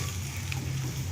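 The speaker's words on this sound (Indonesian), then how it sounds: "Aduk supaya merata" Fried tofu is stirred with chili in a hot pan, giving a steady, fairly soft sizzle with faint stirring scrapes throughout and no speech.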